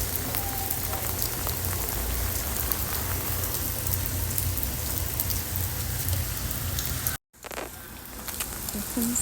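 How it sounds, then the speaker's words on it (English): Heavy rain pours down steadily outdoors, a dense, continuous hiss of drops striking the ground and surfaces close by, loud throughout with one brief cut to near silence before it resumes. "It's raining really hard, but we have to take Max out"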